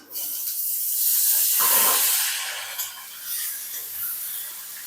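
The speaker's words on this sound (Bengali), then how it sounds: "পটল ভাজবো, একটু তেল দেবো, পটলটা ভেজে নেব ওই তেলে" Pointed gourd (potol) frying in hot oil in a pan, a steady airy sizzle that swells briefly and then settles into an even, moderate hiss.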